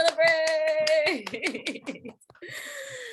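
Workshop participants clap together in celebration, a quick run of sharp, rhythmic claps that mixes with sung or spoken voices and a few light laughs.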